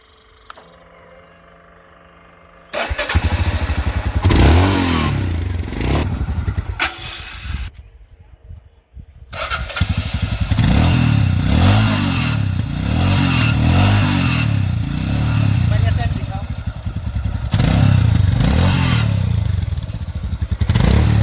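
A new Royal Enfield Himalayan motorcycle idles with a deep, thumping single-cylinder exhaust beat recorded close at the silencer pipe, loud and steady, with a few revs and a short break partway through.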